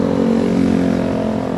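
A motorcycle engine drones steadily and loudly close by as it passes, a continuous low hum with no speech.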